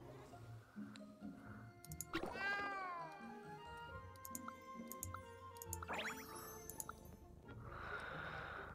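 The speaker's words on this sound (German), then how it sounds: "Komische Katze." A cat meows in the video game Genshin Impact, several drawn-out, rising and falling cries over soft background game music, fairly close and clear.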